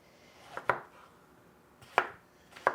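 A knife cutting through zucchini on a board, giving four sharp, close chopping knocks spaced unevenly across a quiet background.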